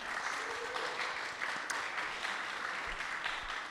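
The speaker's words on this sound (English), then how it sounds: "please, a round of applause for John Michalak and Elliott Martin" Audience applause for two speakers at a Christian and atheist discussion event, steady dense clapping from a crowd sustained throughout without talk.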